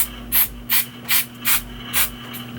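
Five short, sharp hissing bursts of aerosol hair spray at a steady rhythm, close by, separated by brief pauses with a low hum underneath.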